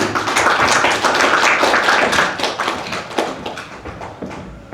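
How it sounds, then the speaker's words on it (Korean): Applause welcomes a professor's lecture at a Confucian studies college, a close, loud, dense clapping from a crowd that holds steady and then thins out toward the end. "큰 박수로 맞이해주시기 바랍니다"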